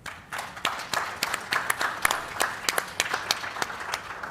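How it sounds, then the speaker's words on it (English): A small audience at a leadership summit clapping for the panelists, sparse, distinct handclaps in a loose uneven rhythm, moderately close and fairly quiet, without speech over them. "I'd like to formally thank the panelists with a round of applause"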